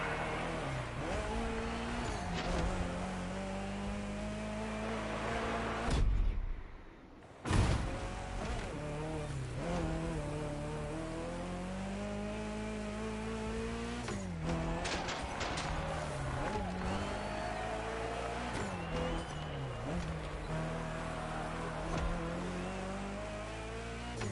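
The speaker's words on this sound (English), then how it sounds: "That little Datsun is actually decent for off-roading." A small Datsun car driven off-road in The Crew Motorfest, its engine droning and revving steadily with some rough surface noise, while a voice talks over it almost throughout.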